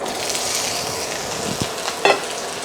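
Pork pieces sizzle steadily in a hot pan after the excess oil is drained, a continuous close frying hiss with a few light knocks and a brief louder clatter near the end.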